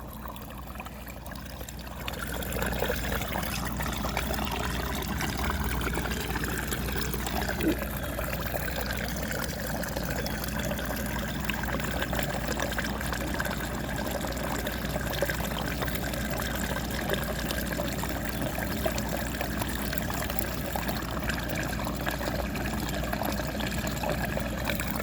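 Rainwater streams into a drain on a flooded roof, a steady, close, unbroken gushing and trickling that swells slightly after the first couple of seconds.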